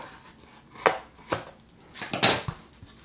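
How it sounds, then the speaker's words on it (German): Scissors cut open a bundle of wound material into separate strands for a handmade Christmas gift tag, giving a few crisp, close snips spaced irregularly with quiet between them. "genau da schneide ich das Ganze auch auf"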